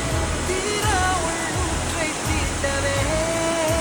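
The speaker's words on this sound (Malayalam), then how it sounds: "സംഭവം ചെറിയൊരു വെള്ളച്ചാട്ടമാണ്" A small waterfall in the hills near Manali pours with an even, full rushing hiss, close and constant, while a few thin bird-like chirps and whistles rise briefly above the water.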